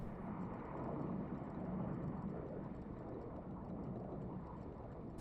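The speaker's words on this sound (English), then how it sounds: "It sounds like planes flying overhead, but it's constant." A constant, plane-like drone in the video game Gamedec, like aircraft flying overhead: a steady, broad rumbling hum that continues without a break or any change in level.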